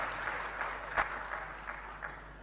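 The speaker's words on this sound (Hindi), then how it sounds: "देखो, अपनी प्रशंसा सुनकर तालियां कैसे बजा लेते हो।" An audience at a religious sermon gives a brief patter of clapping, fairly quiet and roomy, with a soft voice beneath it.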